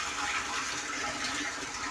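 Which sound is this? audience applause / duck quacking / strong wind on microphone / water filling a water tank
water filling a water tank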